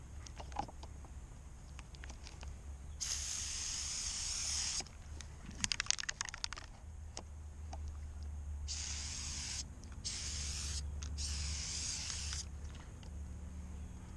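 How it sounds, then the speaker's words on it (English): A Tangle Trap aerosol can sprays onto fruit trees in several long hissing bursts separated by pauses, close and steady, with a low hum underneath. "I'm just going to spray one more here"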